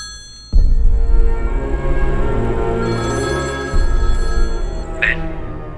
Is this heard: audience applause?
no